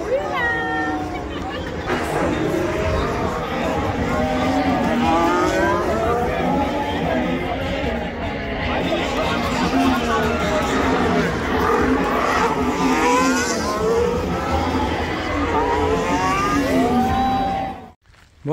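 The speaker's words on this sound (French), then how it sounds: "On pense bien à vous en direct de la course de Formule 1." Formula 1 race cars scream past a trackside spectator spot, their engine notes rising and falling in continuous overlapping sweeps, loud and steady with crowd babble underneath, until the sound cuts off at the end.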